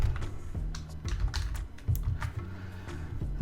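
Keys clacking on a computer keyboard while code is entered, an irregular run of close, crisp taps with short pauses between them.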